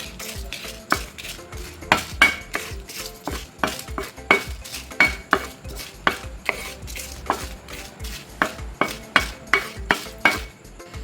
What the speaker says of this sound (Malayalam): ഇനി മുളക് ഒന്ന് വറുത്തെടുക്കാം.